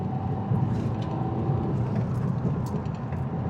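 Vauxhall Astra H 1.9 diesel with 154,000 miles on the clock, heard from inside while driving as a steady, moderately loud engine drone mixed with road rumble, with no talk.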